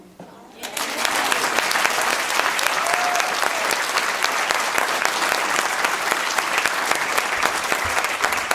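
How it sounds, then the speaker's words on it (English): A round of applause at an awards ceremony starts abruptly after a brief quiet moment and carries on as full, sustained crowd clapping, with some talk faintly underneath. "Let's give them a round of applause"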